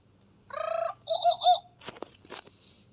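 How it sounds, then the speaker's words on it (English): A short exotic bird call: a quick warbling trill followed by a couple of hooting coos and a few chirps, clear and close, alone. "You will know it is time to turn the page when you hear the jungle bird call"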